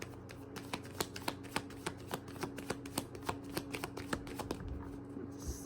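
Tarot cards being shuffled and drawn, a close, quiet run of evenly spaced crisp card flicks and taps against a faint background hum, with no talk.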